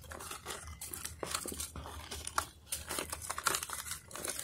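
Birch bark torn and crumpled by hand at close range, irregular crackling, ripping and crinkling bursts over a few seconds, moderately faint with no talk.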